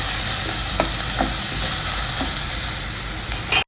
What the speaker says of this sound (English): Allow this onion, garlic and green chilies to fry well.